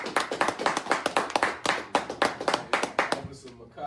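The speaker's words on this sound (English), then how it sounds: "Clap it up." A group of people claps hands in a fast, steady rhythm, about four claps per second, loud and close. A voice talks over the clapping.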